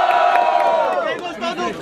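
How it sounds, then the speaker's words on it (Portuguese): Crowd at a Brazilian rap battle cheering and shouting loudly, a roaring mass of voices with one rising yell that falls off, continuous and close. "Quem gostou das rimas do Oeste faz muito barulho"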